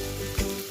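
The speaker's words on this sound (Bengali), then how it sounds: "রসুনটা ঠিক এরকম ভাজা হলে এর মধ্যে পেঁয়াজ কুচি দিয়ে দেবো।" Chopped onion hitting garlic already frying in a pan, a steady sizzle broken by two soft thumps as the pieces drop in, heard close without any talking.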